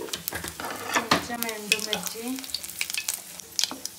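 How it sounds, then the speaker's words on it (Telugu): Cumin, mustard seeds and dried red chillies sizzle in hot oil for an Andhra-style dry curry. Close, crackling pops and a hiss mix with quick stirring strokes. "కొంచెం ఆయిల్ హీట్ అయింది కదా. జీలకర్ర ఆవాలు కొంచెం ఎండుమిర్చి"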